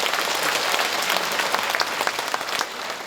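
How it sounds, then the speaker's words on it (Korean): Steady audience applause at a mayor's talk concert in Andong, dense and continuous throughout with many hands clapping at a consistent level. "여러분 박수 부탁드릴게요."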